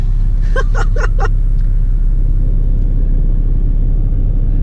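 Car stuck in a snow drift, engine rumbling and straining loudly and steadily throughout, with a few brief voice-like bursts early on.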